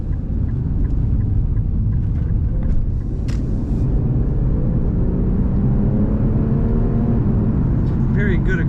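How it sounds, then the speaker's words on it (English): A 2016 Infiniti Q50 Red Sport 3.0T automatic accelerates with a loud, steady low engine drone and rising tones, heard from inside the cabin; a few faint clicks sit on top of the rumble. "Very good acceleration in this car."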